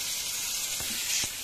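Green chilli and coriander paste hits hot ghee with cumin for a spicy paneer-potato fasting snack, giving a steady close bright sizzle and hiss with a couple of soft pops, no talking.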